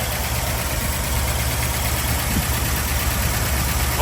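A 1960 Ford F100 pickup's 312 V8 idles steadily close by, a low, even rumble with a faint tapping throb and no change in pace over the few seconds.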